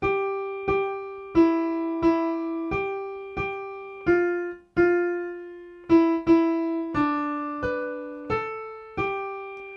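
Single piano notes played one at a time in a slow, even melody, each note ringing briefly before the next, with no other sound.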